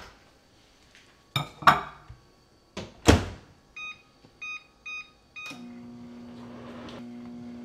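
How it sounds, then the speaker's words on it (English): Clinks and a door clunk, then four short electronic beeps in a row, followed by the steady low hum of a running microwave. "We're going to pop this in the microwave for 1 minute."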